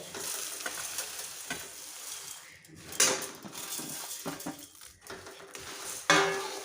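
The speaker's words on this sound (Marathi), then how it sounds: "आता हे व्यवस्थित मिक्स करून घ्यायचे" Puffed rice stirred into melted jaggery in a pan, a dry rustling sizzle with scraping strokes and sharp metallic spoon knocks against the pan at intervals, close and moderately quiet, with no talking.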